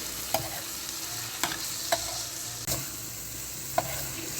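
Chicken with onion and tomato is stir-fried in a pan, a quiet even sizzle punctuated by five or six crisp spatula knocks against the metal spaced about a second apart, close by with no voices.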